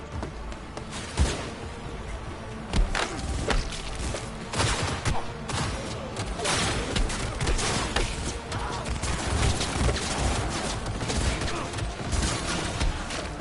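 Dense, sustained gunfire fills a Cyberpunk 2077 firefight, with rapid overlapping shots and bursts cracking continuously for over ten seconds, loud and close, with faint game noise beneath.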